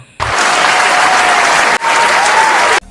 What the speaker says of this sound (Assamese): ভাল খবৰ, হাত চাপৰি বজাও